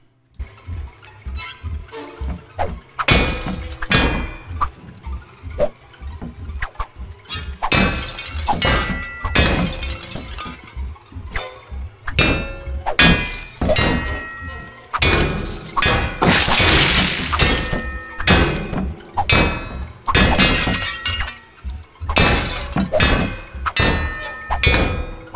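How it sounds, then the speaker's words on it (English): Plant pots shatter again and again in the spider-hunting game Kill It With Fire, a rapid run of loud ceramic smashes and thuds with brief gaps, close and crisp throughout, no talking. "just destroy all 20 plant pots"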